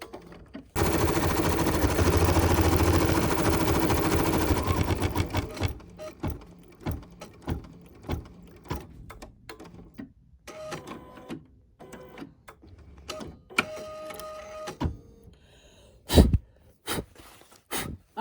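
An embroidery sewing machine runs a white satin stitch over a cross on a Swiss patrol pin cushion, starting with a loud steady whir for several seconds, then settling into quieter irregular clicks and short stitching bursts.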